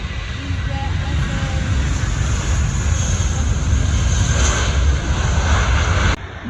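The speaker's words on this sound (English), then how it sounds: "There is an A321 Neo here, just landed from I don't know where." Airbus A321neo airliner at Gatwick Airport just after landing, a sustained loud engine roar and whine holding steady before cutting off abruptly near the end.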